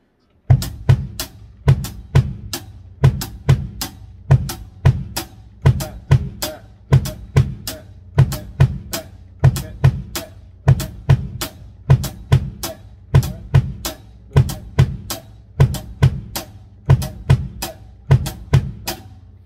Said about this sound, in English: So this is how it's gonna sound without the snare.